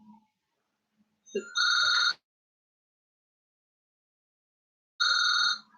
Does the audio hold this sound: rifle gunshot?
no